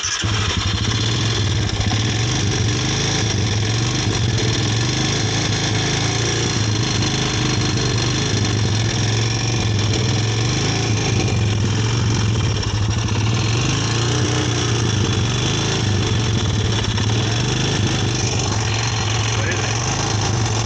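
A Honda 250EX ATV engine idles with the choke held, a loud, steady, close-up putter that runs unbroken throughout with no change in pace.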